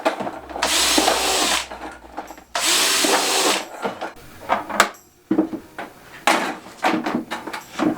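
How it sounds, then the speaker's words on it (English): An electric drill bores holes in a plastic bucket for a homemade worm farm, a few whining bursts of a couple of seconds each, close up, separated by clunks and handling knocks. "Now I'm just going to drill a few holes in the upper 2 buckets."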